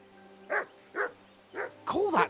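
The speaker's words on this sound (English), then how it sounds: "Do something with that mutt, Henry." Dog barking in Kingdom Come Deliverance II, four evenly spaced barks over a low game hum, the last two running together louder and rougher.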